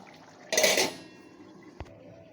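A lid comes down on a pan of ridge gourd and potato cooked with poppy seed and coconut, one bright metallic clank with a brief ringing hiss, then a short knock a moment later.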